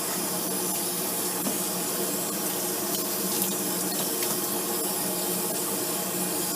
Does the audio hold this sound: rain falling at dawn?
no